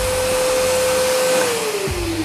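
A Multipro INA VC12-1MD wet and dry vacuum cleaner runs in blower mode with a loud, steady motor whine and rushing air. The pitch sags slightly near the end.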